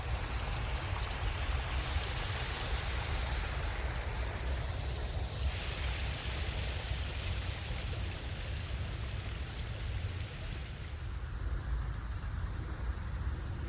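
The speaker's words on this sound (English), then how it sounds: "It's just so quiet and still, except for the waterfall." A garden waterfall in Portland, Oregon pours in a steady, even rush of falling water on a still October day, constant throughout with no talk.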